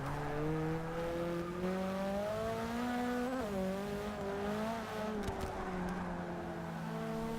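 A touring car's engine in the Forza 6 racing game holds a steady, buzzing drone through a hairpin, dipping briefly as the driver lifts off and then climbing again, loud and continuous with no talking.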